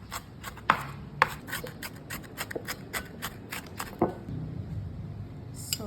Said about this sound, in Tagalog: Basta pilitin natin na maliliit lang talaga yung hiwa ng sibuyas